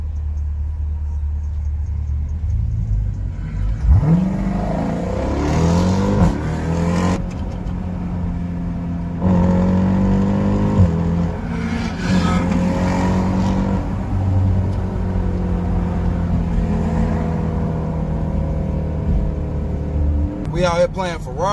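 A Ferrari chases a blacked-out SRT Jeep on a highway at night, engine rumbling and revving loudly and steadily throughout, with people talking over it inside the car.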